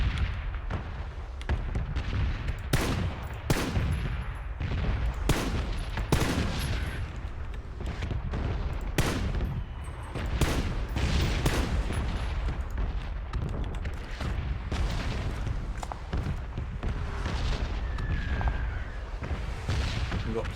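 Scattered gunfire pot shots ring out in PUBG (Playerunknown's Battlegrounds), sharp cracks and booms repeating irregularly over about twenty seconds, loud and fairly close, with no talking.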